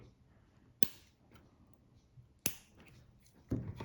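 Surgical scissors snip a suture strand during a two-layer skin closure, making two sharp, close clicks a couple of seconds apart against quiet room tone, followed by a softer rustle.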